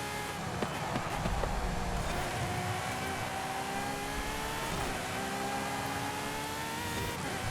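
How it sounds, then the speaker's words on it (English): Ferrari FXX-K Evo race car in Forza Horizon 5, its engine holding a steady high-revving drone with rising and falling harmonic tones, loud and continuous throughout with no talking. "What a fantastic car."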